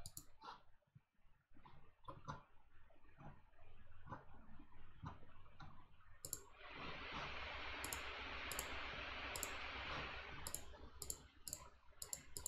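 Computer keyboard keys and mouse buttons clicking while working in Chrome Dev Tools, a steady run of close, crisp taps with short pauses, then a brief stretch of denser clatter in quiet room tone.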